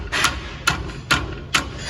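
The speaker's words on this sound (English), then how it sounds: "What I'm gonna do is use a hammer to knock this one in." A Harbor Freight hammer knocks a front leaf spring bushing into its hanger on a 1999 Ford F250 Super Duty, landing four evenly spaced, loud metallic blows up close with no talk.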